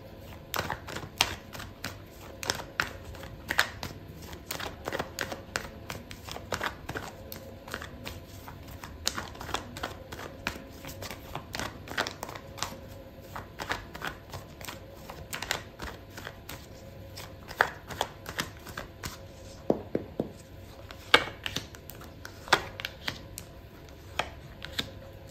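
Tarot cards shuffled close by, a steady patter of sharp riffling clicks and taps that goes on without a break.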